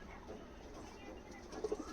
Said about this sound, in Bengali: এই হচ্ছে মাদি কবুতরটা